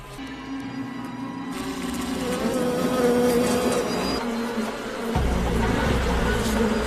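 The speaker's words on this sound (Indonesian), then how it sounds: "ratusan ekor lebah mulai mengganggunya" A swarm of hundreds of bees drones loudly as a film sound effect, a thick, continuous buzz that swells and shifts in pitch, with a low rumble joining partway through.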